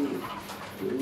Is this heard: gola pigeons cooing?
yes